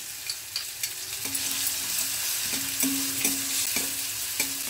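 Cumin powder and ginger-garlic paste fry in a hot pan for a pointed gourd curry, giving a steady close sizzle broken by regular scraping stirs of a spatula, with no voices.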